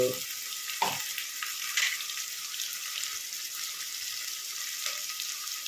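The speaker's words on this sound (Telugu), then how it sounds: "పేస్ట్ బాగా దూరగా వేయించుకోవాలి" Ginger and shallot paste fries in oil for tripe curry, giving a constant, close, bright sizzle with a few soft knocks of stirring near the start.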